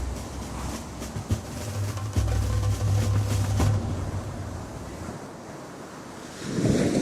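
Rough surf breaks along the Chilean coast under strong, gusting wind, a constant roar of waves with buffeting wind noise on the microphone and a fresh surge near the end.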